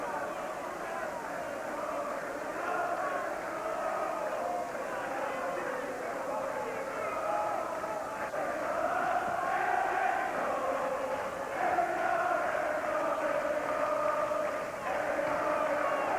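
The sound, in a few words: boxing crowd singing in Boston on an Irish holiday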